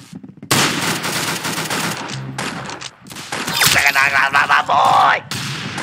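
Rapid automatic gunfire in the online shooter game Arsenal, dense bursts of loud shots filling most of the stretch with brief pauses, plus a rising whoosh and electronic game effects near the end.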